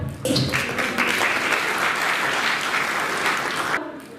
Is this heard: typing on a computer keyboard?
no